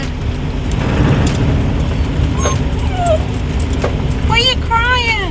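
A dog whimpers and cries inside a car, with high, wavering whines and yips rising near the end over a steady road rumble, while people talk nearby.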